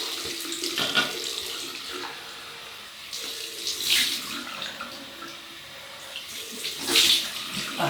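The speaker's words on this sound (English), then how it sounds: "cold water rinse." Cold water tap running into a sink for a rinse after a razor shave, steady splashing stream with louder bursts as hands or a face dip into the flow, close and alone.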